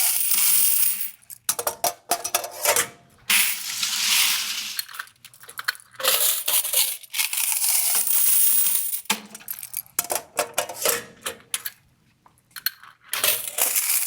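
Quarters clink and clatter in loose bursts while being gathered from laundromat machines, sharp metallic jingles near and fairly loud, with brief quiet pauses between handfuls.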